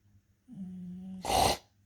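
A single quiet snore: a low droning inhale followed by a brief, breathy snorting exhale, close by in a still room.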